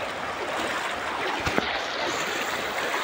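Flood water rushes across a road in a steady, loud broadband wash with no gaps, dense and close, with a brief splash or knock about halfway through.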